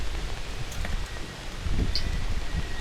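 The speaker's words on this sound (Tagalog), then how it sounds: "Grabe naman yung hangin." Strong monsoon wind gusts roar steadily against an outdoor microphone at a campsite, with a tarp flapping and rustling in bursts rising and falling throughout.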